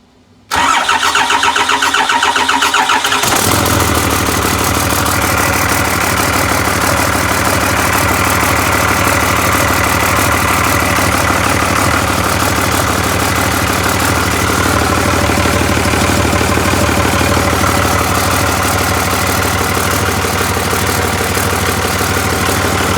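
A diesel engine fitted with a VP44 injection pump and a temporary intake cranks briefly, then catches and settles into a loud, steady, clattering idle that runs close and unbroken for about twenty seconds.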